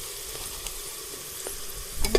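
Coconut paste sizzles in hot oil in a pan on a village wood-fired stove for goat mutton curry, a steady low frying hiss with light stirring scrapes and a louder clatter at the end.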